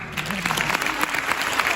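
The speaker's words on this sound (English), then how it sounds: "You can clap now." A crowd at a live health talk in Madrid breaks into applause, a dense patter of clapping that stays steady and moderately loud the whole time, with faint voices mixed in.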